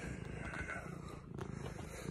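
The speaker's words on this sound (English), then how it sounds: "This is my cat, Junior." A big cat purrs steadily and close while riding on a person's shoulder, a continuous low rumbling drone with faint background noise.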